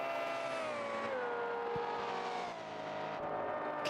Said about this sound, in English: You can hear the difference in the engines Goose and C's have.